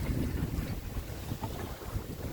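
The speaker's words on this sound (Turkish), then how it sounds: "Güzel hafif bir rüzgar var." A soft, steady wind blows with low rumbling buffets on the microphone, gentle and continuous, with no voices.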